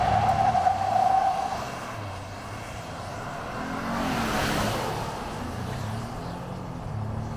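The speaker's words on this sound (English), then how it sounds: "I'm gonna torque load it a little bit" A Ford F-150 King Ranch PowerBoost hybrid pickup launching hard from a torque-loaded brake stand in sport mode, a loud engine roar that rises and swells as the truck accelerates toward 60 mph.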